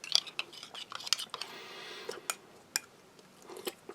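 A spoon clinks against a container as someone eats a Spanish army individual combat ration chicken soup with very fine pasta, making quiet, irregular taps, scrapes and soft mouth sounds with no talking.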